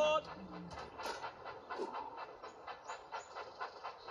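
A toy train engine from a Thomas and Friends game chugging along with a soft rhythmic clickety-clack and hiss, fairly quiet and steady, while a voice speaks over it.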